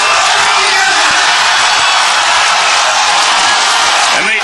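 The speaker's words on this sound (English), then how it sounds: "Listen to the crowd." A huge outdoor crowd of about 40,000 cheers and roars continuously at Nathan's hot dog eating contest, a loud, dense wall of yelling and whooping that holds for the whole stretch.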